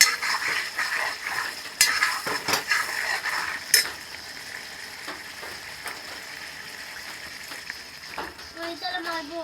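Water poured over boiled potatoes in a pan to make gravy, with a busy sizzle, metallic scraping and clanks of a utensil, and a few short voiced sounds near the end.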